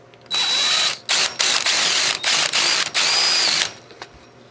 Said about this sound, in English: I realized it'd probably just be better if I drilled the bigger hole in it first. So I'm going to size up the hole a little bit